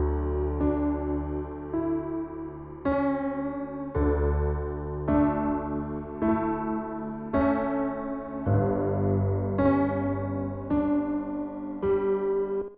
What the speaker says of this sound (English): let's go ahead and use Ableton Live's doubler